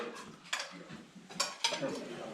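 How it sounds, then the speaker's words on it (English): Plates and cutlery set out for place settings in a mountain lodge dining room, several light clinks and clatters at irregular intervals, fairly quiet, with faint background chatter. "They're currently setting all the places for everyone."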